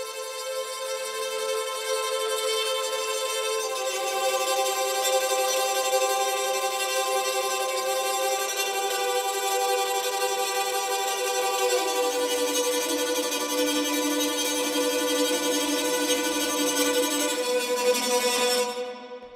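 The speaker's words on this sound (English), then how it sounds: "I have my tremolo legato track, which, as the title says, is a tremolo legato articulation happening" Tremolo legato strings from an Audio Brewers library, played polyphonically in a Dolby Atmos mix with damped, high-cut reverb, sustain several overlapping trembling notes that shift slowly in pitch, even and unbroken, then cut off at the end.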